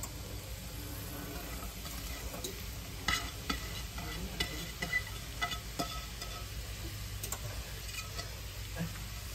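Chopped ginger sautés in oil over onion on an electric stove, a low steady sizzle with repeated spatula taps and stirring scrapes, fairly quiet and close.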